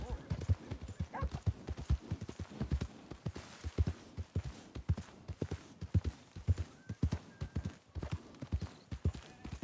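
Horse hooves clip-clop in a steady, brisk rhythm in the Red Dead Redemption 2 video game, close and fairly loud, with a brief whinny-like sound early on and no talk.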